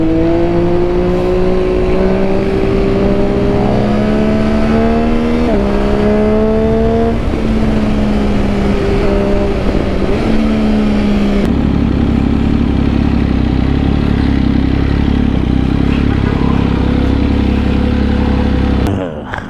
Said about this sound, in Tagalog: At nagluloko na naman sa start ang ating motor.